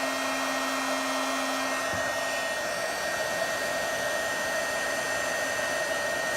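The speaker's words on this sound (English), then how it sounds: "I've got what's called a heat gun" Heat gun blowing hot air steadily while used to heat wood and cork earring pieces on a counter, a broad continuous whoosh running the full length with no talk.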